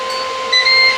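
A steam air fryer's timer sounds while cooking chicken drumsticks, a steady electronic tone with a second higher beep cutting in, clear and close with no talking.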